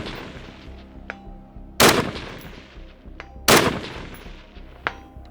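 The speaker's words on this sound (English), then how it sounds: "we're gonna go ahead and work our way up and see how difficult the shots are" Two loud, sharp Steyr AUG rifle shots fired outdoors at long-range steel targets, each with a ringing tail, plus fainter distant cracks and small metallic pings in between, with no voices.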